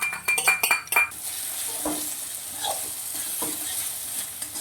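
Tomato and chopped green chillies fry with salt in a kadai, opening with a few quick metal stirring clinks, then settling into a steady close sizzle with occasional soft scrapes.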